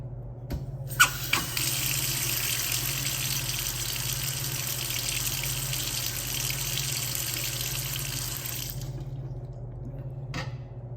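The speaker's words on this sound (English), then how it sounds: "Now you can turn your water supply on," Water gushes steadily from a commercial-grade hand-wash faucet for several seconds, close and even, then shuts off abruptly, followed by a couple of faint clicks.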